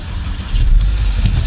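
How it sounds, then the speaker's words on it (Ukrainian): A car engine running with a rough-sounding high-pressure fuel pump, a close, uneven low rumble with irregular knocking pulses over a brief stretch, no voices. "Трошки у нас насос високого тиску дає не дуже гарний звук"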